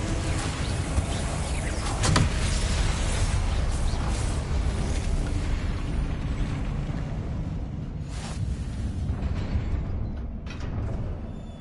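Confringo spell blasts in the Hogwarts Legacy game, a loud rolling rumble of explosive noise with a sharper burst near the start and a few quieter cracks later, fading gradually toward the end without any talk.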